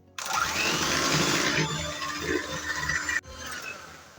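An electric hand mixer whirs loudly as it whisks cake batter for a Swiss roll, a steady buzzing drone that runs for about three seconds and then cuts off abruptly.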